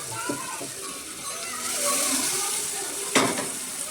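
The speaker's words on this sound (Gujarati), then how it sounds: "વઘાર છે ને સરસ થઈ ગયો છે એટલે આપણે એમાં નાખી દઈએ અડદને ચણા" Boiled urad beans and chickpeas are tipped into a hot, sizzling tempering, making a close burst of sizzle and a spoon clinking against the pan, followed by stirring noises.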